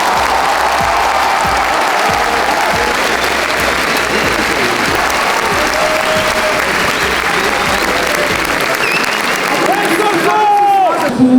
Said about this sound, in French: je veux un tonnerre d'applaudissements pour la personne sans qui il n'y aurait pas Naruto, Masashi Kishimoto